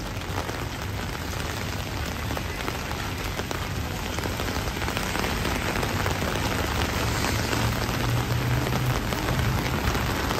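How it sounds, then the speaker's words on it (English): Heavy rain pours steadily over the streets of Midtown Manhattan, a dense, constant hiss of downpour with drops spattering on surfaces, loud and unbroken throughout. "So much rain, oh my gosh."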